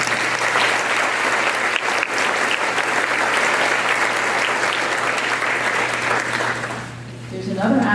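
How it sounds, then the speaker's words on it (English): A school audience at a National Honor Society induction gives a sustained round of applause, loud and even for about seven seconds before tapering briefly, with a voice faintly beneath it. "I'd like to give them a round of applause just for the service they've done."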